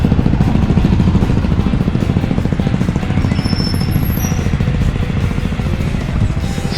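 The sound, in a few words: traffic with motorcycles and tuk-tuks in Krabi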